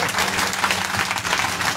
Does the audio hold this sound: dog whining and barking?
no